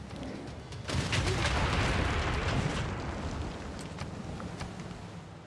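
An ironclad warship fires on the city of Nuremberg in Civilization VI: Rise & Fall, giving a sudden loud blast that rolls into a long rumbling, crackling explosion before fading into scattered pops.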